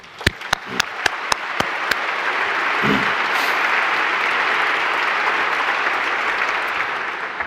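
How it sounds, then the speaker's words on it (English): At Princeton University's 2025 graduation ceremony, a few sharp individual claps come first. A large outdoor audience then joins in, swelling into a broad, sustained roar of applause that holds steady. "Give yourself a round of applause"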